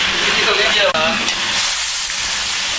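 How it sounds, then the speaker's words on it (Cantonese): Beef and chopped chili peppers stir-frying in oil in a wok with a spatula, a loud close hiss and sizzle with scraping over a few seconds, with a voice briefly present. "用鑊鏟將啲食物炒啊炒"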